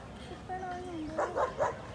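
Dogs give three quick, moderately distant barks in a row, following a murmuring voice, over a faint outdoor background.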